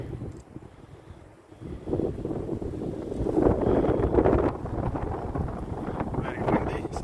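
Gusty wind buffets the microphone of a Samsung Galaxy S24 Ultra phone with low rumbling roars that swell and ease, the loudest gusts near the middle, with no talking.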